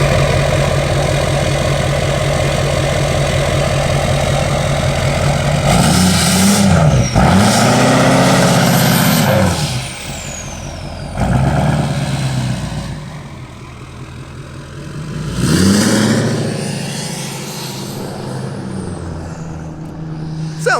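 A 6.2L Silverado pickup tuned on E85 and fitted with an exhaust tip, idling loud and close, with several deep revs that rise and fall between steady rumbling idle stretches.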